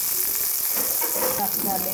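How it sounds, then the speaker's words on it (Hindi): Okra (bhindi) fries in ghee for a masaladar achari bhindi, giving a close, continuous crackling sizzle with faint stirring scrapes. "ये देखिए इस तरह से भिंडी को अच्छी तरह से घी के साथ फ्राई करेंगे"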